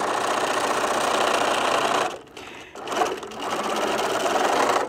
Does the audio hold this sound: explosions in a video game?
no